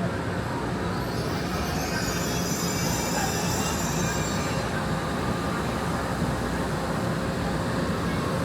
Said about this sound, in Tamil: 本站台有列车进站